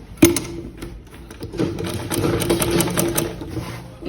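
Sewing machine stitching the facing of a shift dress: a sharp start, then a steady close mechanical whirring hum with rapid needle chatter that runs to the end, no talk.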